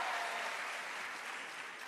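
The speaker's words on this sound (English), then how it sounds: "Please give her a round of applause as well." An audience at a teachers' engagement session applauds, a steady wash of clapping from many hands that fades slightly over two seconds, heard from some distance.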